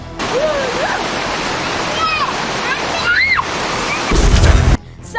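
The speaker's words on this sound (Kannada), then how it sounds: "ಬಾಗಲಕೋಟೆಯಲ್ಲಿ ಹಿರೇದಿಡಗು ಮಿನಿ ಫಾಲ್ಸ್ ಮೈದುಂಬಿ ಹರಿತಾ ಇದ್ದು" Hiredidagu mini waterfall in Bagalkot runs in full flow during heavy monsoon rain, giving a steady, close rushing roar of water while voices can be heard over it throughout.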